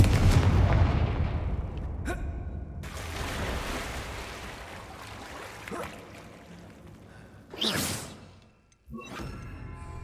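A Confringo fire-blast spell goes off in the Hogwarts Legacy video game, a loud whooshing burst at the start that fades into rumbling, followed later by another sharp swooshing blast.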